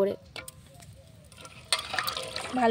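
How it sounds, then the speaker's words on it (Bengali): Freshly picked jujube fruits tipped into water and washed by hand, with sparse clicks at first, then a louder rush of splashing and sloshing close by. "এগুলো সব জলের মধ্যে দিয়ে দেব। ধুয়ে নেব ভালো"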